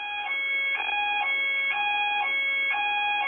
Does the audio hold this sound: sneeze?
no